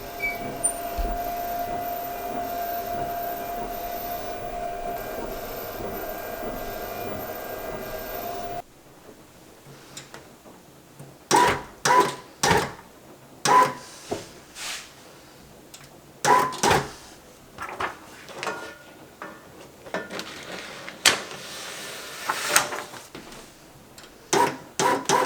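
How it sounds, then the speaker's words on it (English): A Procolored L1800 DTF printer printing a transfer: a steady motor hum for several seconds, then a series of sharp, irregular mechanical clacks and carriage knocks, close and fairly loud. "Now it's going to load and then it'll print on the printer"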